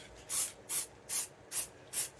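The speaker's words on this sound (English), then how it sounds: "So we'll give it a spray down now." Matte high-temperature spray paint hisses from an aerosol can onto a routed sign in five short, evenly spaced bursts, each roughly a third of a second, close and fairly loud against a quiet background.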